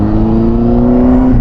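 A CFMOTO 750SR-S motorcycle engine, rated at 111 horsepower, hums steadily and loudly under light throttle in first gear, a close, even drone with a slight rise in pitch.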